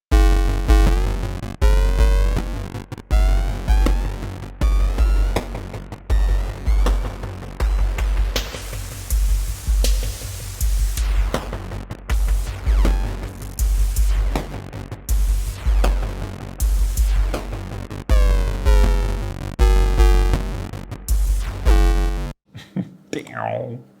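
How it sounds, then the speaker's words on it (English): Booming, distorted 808 drum machine bass drum hits with long sliding tails, repeating in a loud rhythmic pattern alongside gritty noisy percussion. "This one is more on the distorted side."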